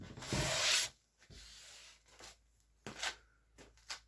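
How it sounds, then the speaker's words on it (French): Sandpaper is rubbed over a rustic pine table built from pallet wood, giving one long loud scraping pass followed by shorter, fainter strokes and brief rubs, close by and with no talking. "je vais la poncer un peu quand même"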